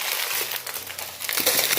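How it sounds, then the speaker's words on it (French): Plastic packaging holding strips of diamond painting material is handled close by, giving a continuous dense crinkling and rustling that swells slightly toward the end, with no talk. "Désolé pour le bruit de plastique."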